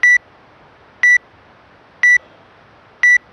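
A Wodex Zee charger timer sounds four short, evenly spaced electronic beeps about a second apart, loud and close over a quiet background.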